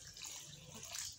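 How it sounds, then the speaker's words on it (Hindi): Half a cup of water poured into mutton keema with peas cooking in a pan, a brief close splash and trickle heard alone. "अब मैं इसके अंदर हाफ़ कप पानी ऐड कर रही हूँ"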